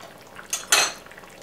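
A spoon knocks and scrapes twice against a thick-bottomed pot while stirring liver simmering in sour cream sauce, two brief close clinks over quiet background.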